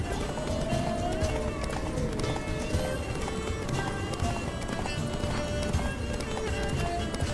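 Rapid hoofbeats of a galloping horse in The Witcher 3: Wild Hunt pound steadily under a dense layer of game music and ambient noise, with a brief whinny mixed in.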